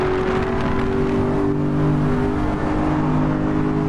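A car engine in a racing video game drones steadily as the car accelerates, a continuous even motor hum at a constant loud level, with no talking over it.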